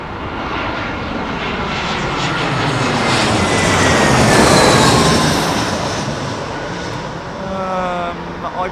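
A loud, continuous roar of a jet aircraft engine at London Heathrow Airport, swelling toward the middle and easing off again, with a whining tone sweeping across the sustained rumble.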